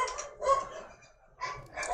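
A dog in the video game ARK barks and yips in a few short, close bursts with a brief gap between them.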